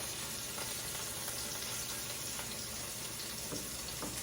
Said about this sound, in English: So now we're going to put this guy all in there. Here, the sizzle.